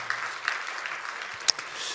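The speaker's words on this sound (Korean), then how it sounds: "박수를 쳐주시네요" A church audience at Gwangju Sebit countryside church applauds: a brief, fairly quiet patter of clapping from a crowd, with one sharper clap standing out near the end.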